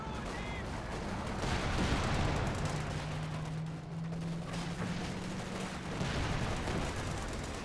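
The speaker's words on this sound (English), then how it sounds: "that's a white phosphorus barrage coming in" White phosphorus artillery barrage in the strategy game Company of Heroes 2, amid a dense battle mix of repeated gunfire and booming impacts, with a low drone running through the middle.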